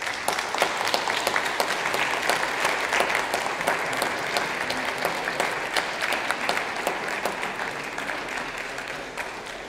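An evening concert audience applauds performers back on stage, a sustained, even wash of many hands clapping with sharp individual claps standing out, steady for the full length without talk.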